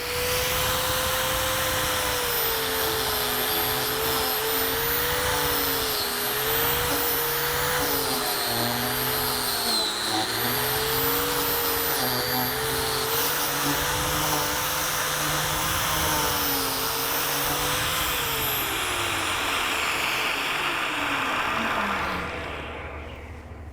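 An Arbortech SpheroPlane power carver hollows out a wooden bowl, a loud, close motor whine with a cutting roar whose pitch dips and rises over about twenty seconds, then spins down to quiet.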